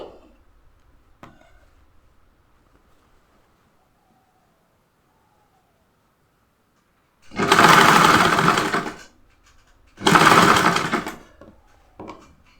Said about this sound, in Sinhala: ඔයාලට දැන් ඕපන් එක අවශ්‍ය තැනට එනකන් මහ ගන්න